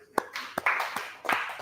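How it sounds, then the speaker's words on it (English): An audience claps in several short bursts, with sharp irregular hand slaps rising and fading at a moderate distance during a devotional talk. "Give him a big clap."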